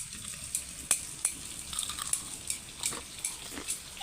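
Tofu frying in a pan, with a soft steady sizzle and crackle broken by light clinks and scrapes of a utensil, close and moderately quiet, with no talk.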